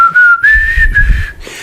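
One person whistles a tune, a clear, loud, close melody with short pauses between phrases, heard alone.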